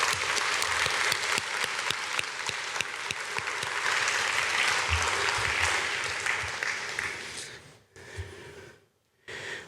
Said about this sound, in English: Please join me in giving them all a big round of applause.